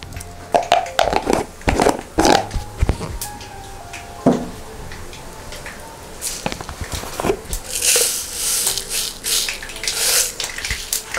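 Mustard seeds pop in hot coconut oil in a pan, giving sharp, irregular crackles and snaps, close and fairly loud, scattered over a low background sizzle.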